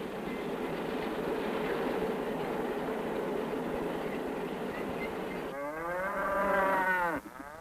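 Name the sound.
corn-fattened cattle mooing on a farm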